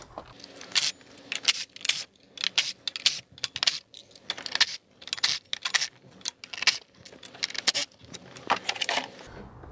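Work on a BMW E46 engine: ignition coils and 10 mm bolts come off, with irregular bursts of light metallic clicks, clinks and rattles from tools and parts close by, and no speech.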